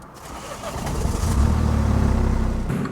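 A Mini Cooper car-sharing car in Moscow drives off. Its engine rises to a loud, steady, close rumble and holds there before easing at the end.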